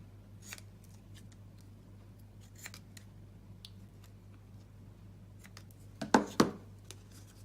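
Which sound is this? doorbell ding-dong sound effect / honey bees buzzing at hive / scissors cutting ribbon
scissors cutting ribbon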